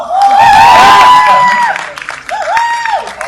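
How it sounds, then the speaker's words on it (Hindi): A studio audience at a reality TV show claps and cheers in a loud burst that fades off, with a voice talking over the applause. "तो अरे इतनी ठंडी तालियां तो जोर की तालियां बजाओ।"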